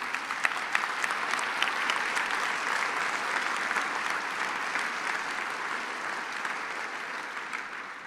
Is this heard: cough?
no